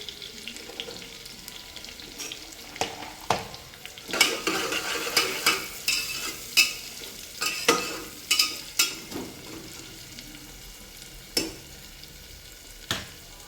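Chopped onion and coconut frying in a pan for bajra khichdi, stirred with a metal spoon: a low, constant sizzle broken by sharp, irregular spoon knocks against the pan, close by and without talk.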